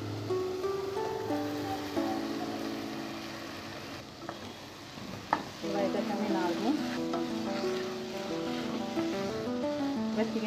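Marinated chicken sizzling in a pan with fried onion and tomato for a Sunday koyla chicken recipe, a steady frying hiss under faint background music, with a sharper burst partway through.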